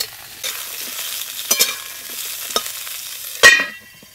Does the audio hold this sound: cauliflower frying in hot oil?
yes